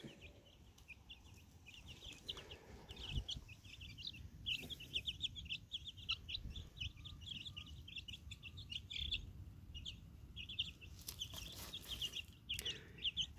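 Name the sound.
chicks peeping and hen clucking outdoors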